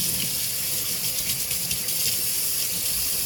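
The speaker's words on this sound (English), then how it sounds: "I'm going to wash my hands" Tap water runs steadily into a kitchen sink as hands are washed beneath it, a continuous close hiss and splash with no talk.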